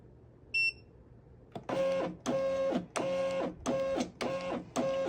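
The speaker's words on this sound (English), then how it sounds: "turn the machine on, and then we're going to hold down this button until it beeps." A single faint beep, then a JADENS label printer whirs in rapid rhythmic mechanical bursts, feeding and cutting.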